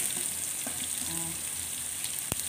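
Onions and chili frying in a pan give a steady close sizzle with soft stirring scrapes and a sharp clatter near the end, with no talking.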